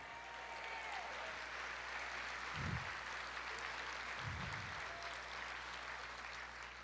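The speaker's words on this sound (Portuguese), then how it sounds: "Aplauda mais." A church congregation applauding during a sermon, a faint, steady wash of distant clapping from a large crowd that continues throughout, with a low hum underneath.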